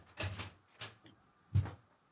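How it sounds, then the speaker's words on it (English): Door being opened: a few dull knocks and thumps, one soft clack in the middle and a heavier thud at the end, close and fairly quiet. "I'm going to open the door."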